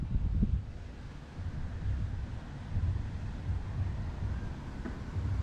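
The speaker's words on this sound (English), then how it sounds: "We are completely exposed to all the wind" Steady wind buffets and rumbles around a DJI Mini 3 Pro drone hovering at 200 feet in open, exposed air, a low continuous roar with gusty swells and no voices.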